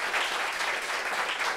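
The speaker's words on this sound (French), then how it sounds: "Applaudissements pour ça." Steady audience applause during a French talk-show discussion about family conflicts, a continuous wash of clapping with no break across the short span.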